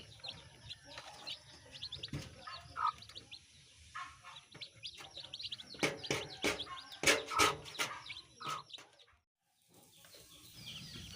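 Baby chicks chirp steadily in a chicken coop, a busy overlapping chorus of high peeps that swells and fades at close range before a brief quiet gap.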